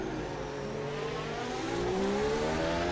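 A Formula 1 car engine in a racing video game holds a high, steady whine that climbs gradually in pitch, loud and close, with nothing else over it.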